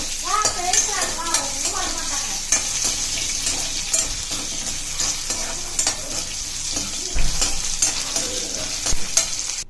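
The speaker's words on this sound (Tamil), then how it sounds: "இப்போ இதிலே தேங்காய் ஆட் பண்ணி நல்லா வதக்கிடுங்க." Coconut sautés in a hot pan with steady sizzling and occasional scraping and stirring, close up, running continuously throughout.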